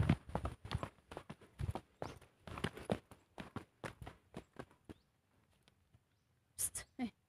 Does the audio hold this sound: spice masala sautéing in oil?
no